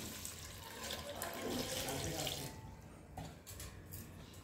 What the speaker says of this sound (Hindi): और इसमें हम पानी डाल लेते